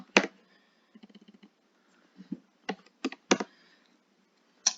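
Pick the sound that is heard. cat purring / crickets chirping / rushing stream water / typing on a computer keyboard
typing on a computer keyboard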